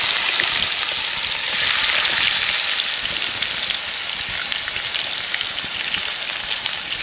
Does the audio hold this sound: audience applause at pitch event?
no